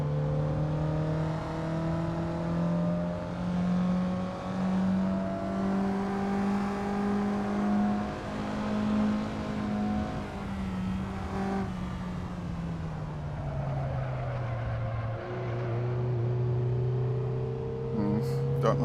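A Suzuki Liana in the Assetto Corsa sim racing game revs hard on the Top Gear test track, its engine note climbing steadily and dropping through a gear change, loud and close throughout.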